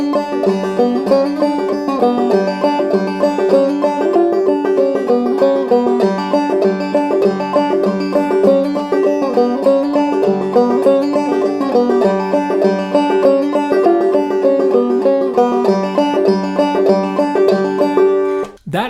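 A clawhammer banjo in G tuning plays a basic, square version of Reuben's Train. The brisk, steady picked rhythm is loud and close, with no voices, and it runs almost the whole way before cutting off abruptly.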